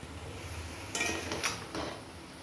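Red rice noodles tipped into a cooking pan and stirred with a utensil, giving a soft scraping hiss with a few clattering knocks, close up and with no talking.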